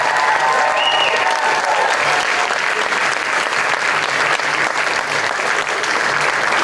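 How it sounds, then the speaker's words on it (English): Sustained applause from a school pageant audience in a hall, honouring all the contestants, a dense steady wash of clapping that stays loud for the full stretch without pause. "Let's get one more round of applause for all our contestants."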